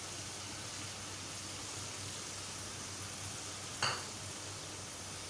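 Green chilies dropped into a tomato and spice masala that is already frying, with a soft continuous sizzle and one sharp crackling burst as they hit the hot oil.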